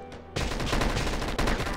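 Uzi submachine gun firing in the zombie game Dead Ahead: Zombie Warfare, a sustained rapid burst of dense, rattling shots that kicks in abruptly and keeps going, loud and continuous.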